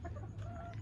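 Backyard hens cluck close by in a low, continuous, throaty murmur of soft repeated notes.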